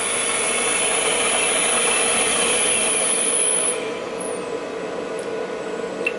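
An upgraded Haulin spindle motor runs with a steady, loud high-pitched whine, then cuts off after about four seconds, its pitch sliding downward as it spins down quickly to a quieter hum.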